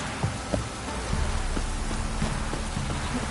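Steady video-game rain pattering on a surface in The Witcher 3, a dense continuous hiss with occasional louder drops, no voices.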